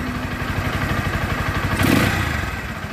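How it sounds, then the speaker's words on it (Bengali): A Bajaj Pulsar NS 160 motorcycle engine running close up, with a steady low, pulsing exhaust throb and a brief rise in revs near the end, without talk. "ইঞ্জিনের সাউন্ডও শুনুন।"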